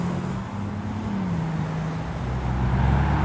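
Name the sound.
brand new Aston Martin Vanquish supercar arriving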